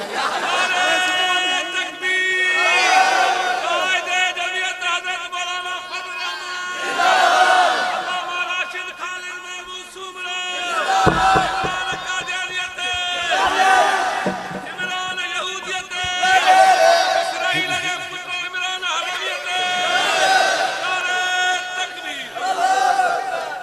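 A large crowd at a religious gathering in a village chants loudly in response to a Naara-e-Takbeer slogan. The chanting rises and falls in repeated surges over a long stretch, with voices blending into a roaring mass.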